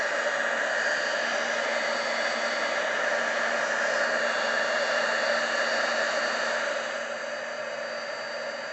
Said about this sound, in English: Right, let's just heat that now.